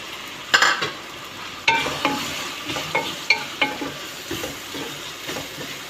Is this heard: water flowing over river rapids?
no